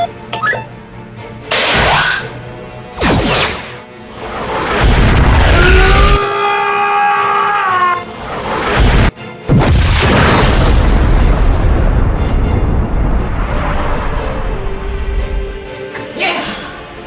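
Loud sci-fi starship weapon blasts and deep booming explosions from a Star Trek fan production rumble one after another, with German voices heard between the blasts.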